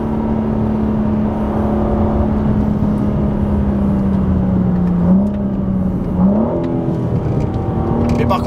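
A 2023 BMW M3 CS G80 engine drones steadily from inside the car while driving, a loud constant tone that shifts pitch slightly as revs change, with a low road rumble underneath.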